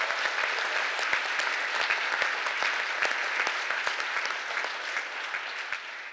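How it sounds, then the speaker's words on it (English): A room full of people at a gathering of activists marking twenty years since the WTO protests claps steadily and densely for about six seconds, a sustained round of applause at a moderate, even level. "let's give them another round of applause"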